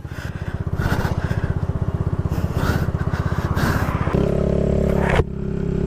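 A motorcycle engine running close and loud with a fast, pulsing putter, shifting to a steadier higher idle tone before a sudden drop near the end.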